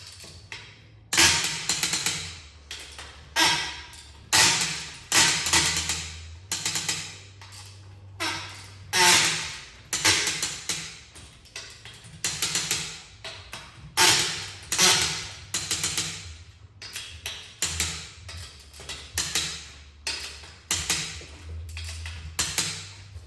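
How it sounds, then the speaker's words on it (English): Torque wrench clicking repeatedly while driveshaft bolts on a Ford Transit Connect are tightened to 135, sharp metallic clicks arriving in irregular bursts close up, with a low hum underneath and no talking. "We can set our torque wrench to 135."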